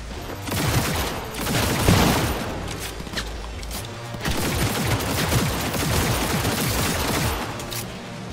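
Sustained automatic gunfire rattles through a Cyberpunk 2077 firefight, dense and loud with booming shots layered over one another for several seconds without pause.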